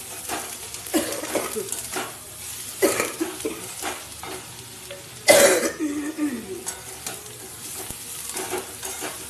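Shredded cabbage fries in a pan with a steady dry sizzle, stirred now and then with scraping strokes and one sharp clatter of a utensil, plus a brief cough nearby.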